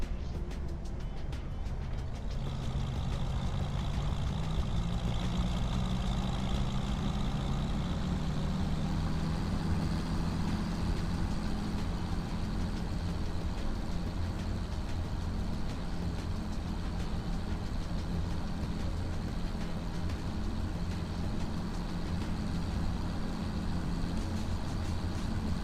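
A tractor engine idles in the Farming Simulator 25 video game, giving a steady, continuous low mechanical drone that holds at an even loudness throughout, with no speech.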